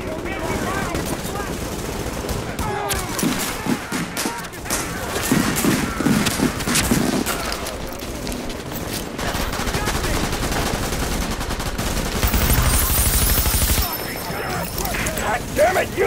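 Continuous gunfire rattles through a firefight in Tom Clancy's The Division, with steady overlapping shots and bursts across the whole stretch and voices talking beneath the shooting.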